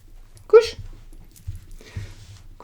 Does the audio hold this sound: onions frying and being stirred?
no